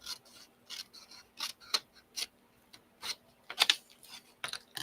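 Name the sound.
cutting gift box flap along score marks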